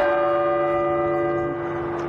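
Church bells of the Scottish Rite Cathedral in Indianapolis, part of a 54-bell carillon weighing 57,000 pounds, ring with a loud sustained metallic tone and long shimmering overtones, heard close up in the bell tower.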